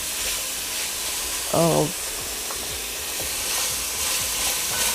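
Sweet pepper sauteing in a pan for lasagna, a soft steady sizzle with a brief voice over it.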